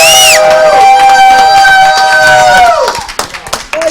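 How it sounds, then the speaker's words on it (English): An audience claps in a burst of scattered, close hand claps that builds toward the end, following a stretch of voices. "He said we got to clap louder than that."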